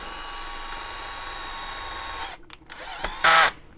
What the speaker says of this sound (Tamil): பாதுகாப்புக்காக தான் இந்த அடிஷ்னல் ஸ்க்ரூ போடுறேன்